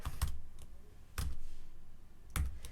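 A few sparse keystrokes on a computer keyboard while code is typed, three distinct crisp clicks spaced about a second apart, close and clear with no talking.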